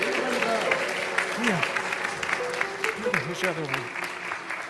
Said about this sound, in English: Let's give a cheer for the returning sun.